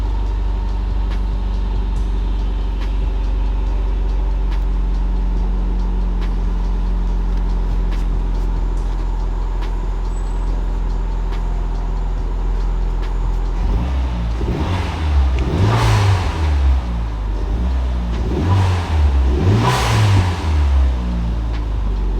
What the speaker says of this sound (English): Let's give her a quick start up. Make sure she idles all nice.